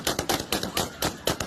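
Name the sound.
gunfire outside airport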